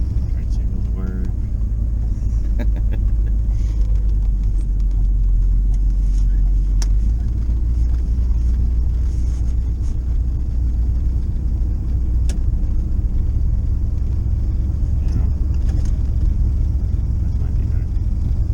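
A 1975 Pontiac Firebird engine rumbles steadily while driving, a loud continuous low drone heard from inside the car, with someone talking over it.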